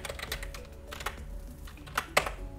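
Light taps on a computer keyboard come in irregular bursts, with a few sharper clicks toward the end, close by and alone with no voices.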